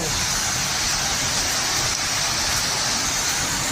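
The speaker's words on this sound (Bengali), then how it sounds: "মুষলধারায় বৃষ্টি হচ্ছে, মানে বীভৎস বৃষ্টি।" Heavy torrential rain pours down in a dense, steady roar that never lets up, loud and close.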